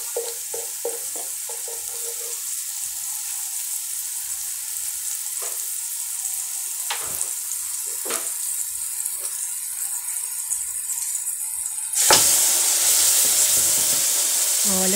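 Meat for chambaril hisses and sizzles steadily in a hot pan, with a few utensil clicks and scrapes, then a louder burst of frying near the end as more goes in. The sound is close and there is no talking.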